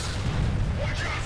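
A grenade explodes in the shooter game F.E.A.R., a brief, heavy, loud roaring blast with deep rumble filling the whole short moment.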